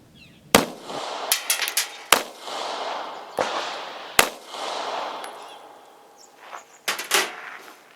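Sharp, reverberant shots from a Krieghoff Luger pistol being test fired after repairs, about six loud reports spaced unevenly over several seconds, each with a decaying echo.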